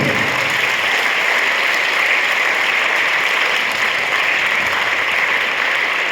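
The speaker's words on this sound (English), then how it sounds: "give a very, very loud clap for Tanish sir." Loud, sustained clapping from a classroom audience for a teacher, a dense and even burst of applause holding steady throughout.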